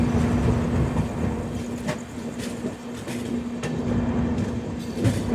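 A Rajdhani Express rolling slowly onto platform 1, a steady low rumble of carriages with faint clanks and rattles, fairly loud and continuous, no voices.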